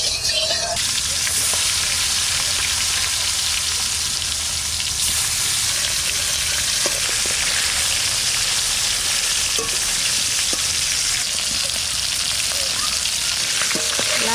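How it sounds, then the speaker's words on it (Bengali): Koi fish frying in plenty of oil for tel koi: a loud, unbroken, close-up sizzle and crackle with faint stirring clicks throughout. "লাল করে ভেজে নেব কই মাছ বেশি ভাজবো না হালকা ভেজে তুলে নেবো"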